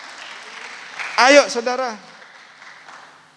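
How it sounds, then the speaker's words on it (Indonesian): A church congregation at an online worship service bursts into brief loud applause and cheering, cut into by a preacher's voice before fading into the background. "Tepuk tangan buat Tuhan kita."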